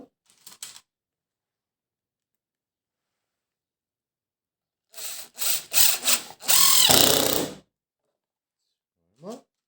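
A power drill drives a few screws into wood in a CNC woodworking shop, with several short whirring bursts and one longer sustained run, followed by a brief squeal near the end, separated by quiet gaps.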